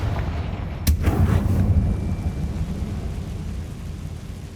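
A loud fiery blast bursts out in the Hogwarts Legacy video game as the Confringo spell explodes, one sharp crack followed by a deep rumbling roar that fades slowly over several seconds.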